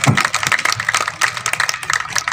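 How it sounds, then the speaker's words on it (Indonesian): A crowd claps steadily at a Minangkabau festival ceremony marking a world record with a mass dance, a continuous dense patter of many hands, fairly loud and without speech. "Tepuk tangan."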